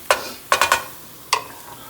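Garlic in a frying pan being stirred, with a few short sharp scrapes and sizzling bursts in an irregular rhythm over a faint background hiss, close by.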